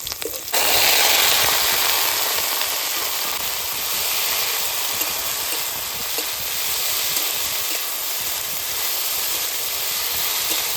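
Taro flowers frying in oil with garlic and slit green chillies give a steady, loud sizzling hiss that runs unbroken after a brief quieter start.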